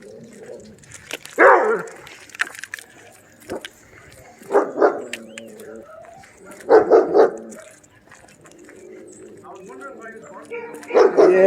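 Several dogs, including a Doberman, bark in short loud bursts spaced a few seconds apart outdoors, with yips and whimpers between them and people talking throughout.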